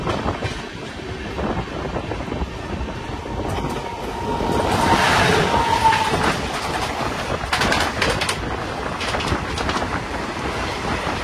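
The 12377 Padatik Express passenger train runs near Dalkhola on the way from Sealdah to NJP, a steady close rumble with rhythmic clickety-clack of the wheels and a bird faintly audible, with no talking.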